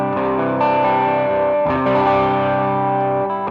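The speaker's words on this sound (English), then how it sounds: "you can't really get this tube screamer cooking when you plug into the amp direct, but now I can" An electric guitar runs through a Tube Screamer overdrive pedal into an amp captured by a Two Notes Captor X, playing sustained distorted chords with a couple of re-strikes, loud and close with no talking.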